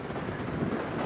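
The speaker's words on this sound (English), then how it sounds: "Oh, there's the wind." Wind gusting across open upland in the Cheviot Hills, a steady broadband rush buffeting the microphone for a brief moment, with no voices present.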